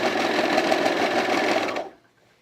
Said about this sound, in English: I have the stitch length pretty short, so I get a nice dense serge